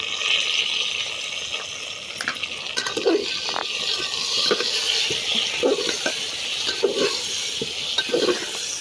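Peeled vegetables with salt and turmeric fry and sizzle in a pan while being stirred, a continuous close hiss broken by repeated scraping strokes of the spoon.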